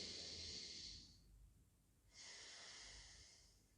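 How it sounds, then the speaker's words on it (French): Ujjayi ocean breath during a yoga warrior flow: a slow, hissing exhale through the nose with a constricted throat, a pause, then a second long, wave-like breath, quiet and close. "le fait de contracter la gorge va créer un bruit de vague, un son de vague, d'où l'appellation, la respiration de l'océan"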